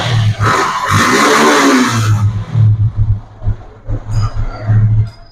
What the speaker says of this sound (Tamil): வண்டி ஸ்டார்ட் பண்ணி கூட காமிக்கிறேன் பாருங்க.